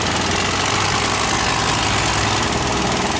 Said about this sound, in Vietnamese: Đây tới những cái phương tiện ghe vô đây các bạn.